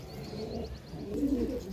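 Pigeons kept for sale, including a Kalanka Madras pair, coo in low, rolling calls close by, with a run of faint higher chirps early on and a louder burst of cooing near the end.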